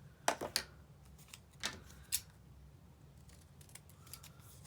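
Scissors trim closely around a large paper die cut, making a few crisp, quiet snips in a quick cluster, then scattered lighter cuts in a still room.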